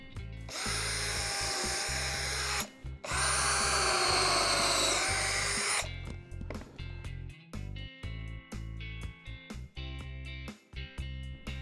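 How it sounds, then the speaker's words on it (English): Two bursts of drilling pocket holes into wood, each a few seconds of loud whirring, followed by a series of knocks and clatter as the pieces are moved. "Next, drill 4 pocket holes on the back."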